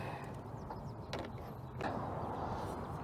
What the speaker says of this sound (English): take those bolts off that hold the fan shroud